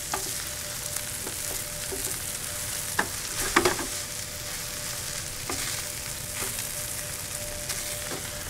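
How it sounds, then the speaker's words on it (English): Par-cooked rice toasting in a pan, a steady, even sizzle and fry hiss throughout with a few soft stirring scrapes and utensil taps, close and moderate in level, no voices. "work these flavors into and almost toast the rice while it's in this pan"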